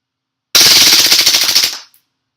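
A WE Apache MP5 gas blowback airsoft gun fires one loud, rapid full-auto burst of about a second and a half, then the shots thin out as the gas runs out and the magazine empties.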